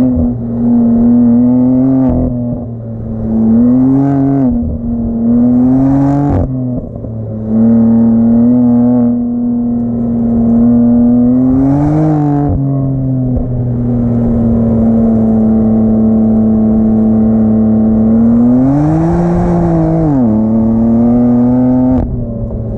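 A 2018 BMW M4 CS engine rises and falls through repeated revs with an exhaust burble, heard loud and steady over roughly twenty seconds.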